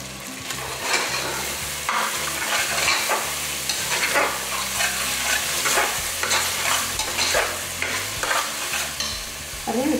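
Tomatoes and small green chillies sauté in a pan for mutton pulao, giving a steady sizzle and frying hiss with repeated scraping stirs throughout, close and fairly loud, with no talking.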